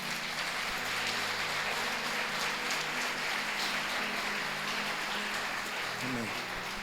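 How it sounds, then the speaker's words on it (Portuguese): A church congregation claps together in a sustained, even wash of applause that fills the room, with a low background hum beneath it. "Você pode aplaudir Jesus"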